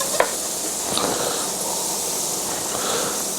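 Onions being dropped into a hot frying pan for a fried chicken and okra meal, a soft thump and then a steady close hiss and sizzle with faint stirring.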